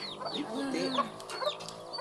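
Chickens on a farm clucking close by in short rising and falling calls, several birds overlapping steadily.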